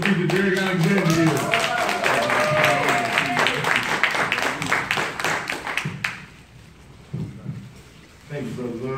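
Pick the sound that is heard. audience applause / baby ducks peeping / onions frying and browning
audience applause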